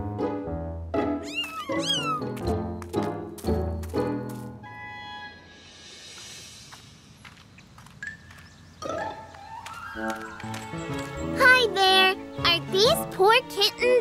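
Cartoon kittens meow again and again in high, squeaky bursts, with a quiet gap in the middle before a fresh cluster of cries and jingly tones.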